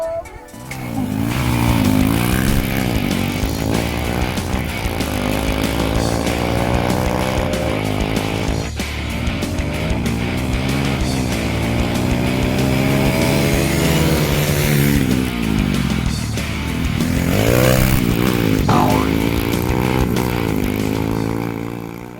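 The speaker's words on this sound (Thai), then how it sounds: "เราจะมาทดสอบสมรรถภาพของรถนะครับ" A loud, steady engine drone during an on-road versus off-road vehicle performance test, revving and shifting pitch almost continuously, buzzing and raspy with rising and falling tones throughout.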